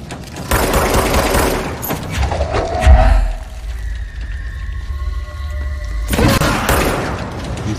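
Gunfire from the video game Control, with loud, dense bursts of shots at the start and end framing a quieter stretch that has a sustained tonal hum and a deep boom in the middle.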